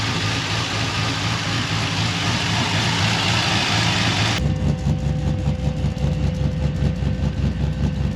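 A turbocharged WK Statesman car engine idles close by with a steady, loud, deep rumble that continues unbroken, its tone shifting slightly partway through.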